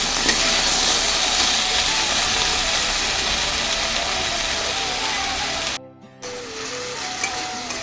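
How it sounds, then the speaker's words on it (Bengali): Potatoes frying in oil left over from frying fish give a steady, fairly loud sizzle and hiss near the pan, with a brief drop to near silence around the six-second mark before the sizzling returns. "মাছ ভাজা হয়ে গেছে, ওই তেলেতেই কিন্তু আমি আলুটা ভেজে নিচ্ছি।"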